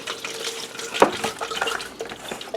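Water poured into a jar to rinse it, a splashy gurgling pour with a sharp clink partway through, close by in a kitchen.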